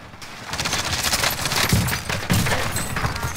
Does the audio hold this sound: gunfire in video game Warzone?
yes